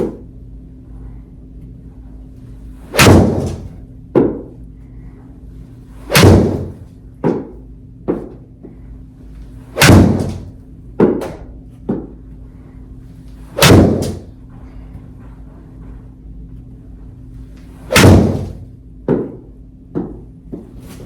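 Iron shots on a golf practice drill: a string of loud, sharp impacts at irregular intervals, each a punchy strike with a brief decaying tail, close by and alone over a quiet outdoor background.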